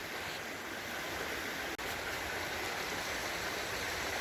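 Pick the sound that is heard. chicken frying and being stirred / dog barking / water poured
water poured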